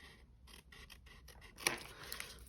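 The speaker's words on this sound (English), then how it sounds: "we are going to cut along this crease" Scissors cut through paper card stock along a folded crease for a small Stampin' Up! gift card holder, giving a quick series of close, quiet snips, then a sharper crisp cut near the end.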